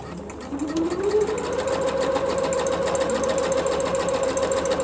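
A sewing machine runs steadily, stitching a zigzag seam at a narrow width setting with a continuous loud motor whir that ramps up in pitch and then holds level, with no voices.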